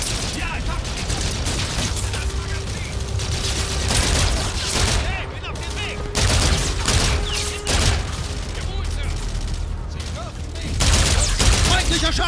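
Rapid gunfire fills a control tower in the Call of Duty: Infinite Warfare campaign, with dense bursts and loud booming hits running almost without pause, layered with mechanical clatter and occasional voices.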